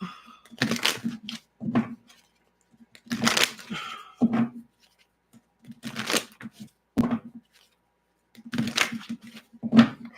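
Tarot cards being shuffled in bursts of riffling and flicking, several short bouts separated by pauses, close and moderately loud, with a low hum running underneath.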